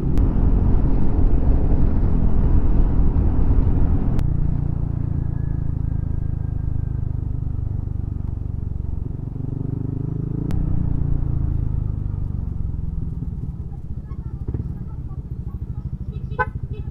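Motorcycles ridden on a road in rural Libertad, Antique, Philippines, near Pandan, a continuous loud engine drone and wind rumble with a horn toot near the start and a few faint clicks later.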